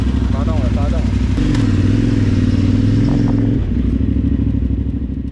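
A motorcycle engine fires up and idles loudly on a test ride in Benoni, South Africa, with a rumbling low throb that lasts several seconds and then eases. A voice speaks over it near the start.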